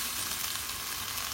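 Chili and paprika stir-fry in a hot pan with broccoli and shrimp, a steady, close hiss of sizzling oil with no break across the short moment.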